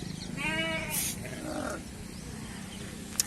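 A few wavering animal bleats, like a sheep's, rise over a steady low hum, then give way to quieter background noise.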